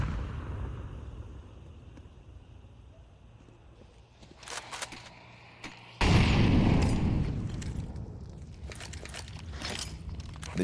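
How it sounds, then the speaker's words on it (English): In a Counter-Strike match at IEM Cologne Major, a frag grenade explodes with a sudden loud blast after a quieter stretch, then fades into rumbling battle noise and scattered shots. "Kerrigan eats that frag grenade for 75 damage."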